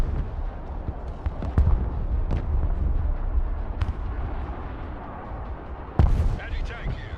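Artillery fire in a military strategy video game, several sharp distant booms spaced a second or more apart over a rumbling battlefield background, the loudest blast near the end.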